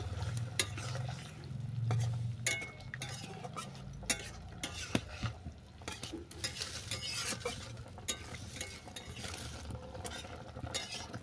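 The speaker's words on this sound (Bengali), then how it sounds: "রাইস মিল্ক ফুটিয়ে নেওয়ার পর দিয়ে দিচ্ছি সাদা সর্ষে বাটা এটাকে ভালো করে মিশিয়ে নেব" A spoon stirs white mustard paste into boiled rice milk in a pot, giving a continuous scraping, swishing sound with light clinks, close and steady throughout, with a low simmering hum early on.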